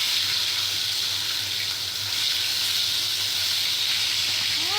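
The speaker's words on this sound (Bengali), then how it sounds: "মাছ ভাজা এই যে গাইস দেখুন" Fish sizzles as it fries in a pan of hot oil, a steady close hiss with no break and no talking.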